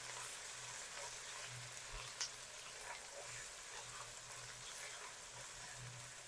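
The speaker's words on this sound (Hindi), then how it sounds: "1 टेबलस्पून लहसुन अदरक की पेस्ट और इसको भी तकरीबन 1 मिनट तक फ्राई कर लेंगे" Garlic ginger paste frying in a pan of oil for a pulao, a steady, moderately loud sizzle with soft crackles and occasional stirring scrapes throughout.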